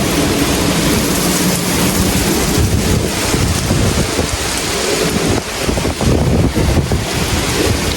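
Strong winds during a severe thunderstorm in New Jersey, a loud continuous roar of gusts buffeting the microphone with rain mixed in, steady and close throughout.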